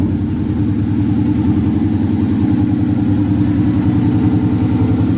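A car engine fitted with a ported 1320 intake runs steadily at a loud, close, lumpy idle, its low throbbing pulse constant throughout with no talk.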